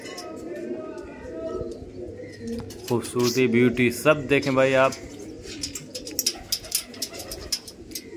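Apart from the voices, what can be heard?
pigeons cooing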